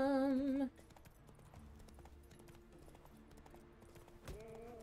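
Roach, Geralt's horse in The Witcher 3 video game, clip-clops in a steady hoof rhythm at moderate volume, following a brief burst of in-game music, with a short louder sound near the end.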